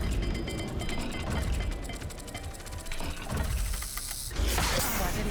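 A puzzle dial in a video game ratchets and clicks as it turns, rapid gear-like ticking with creaks and a heavier clunk near the end, close and fairly loud.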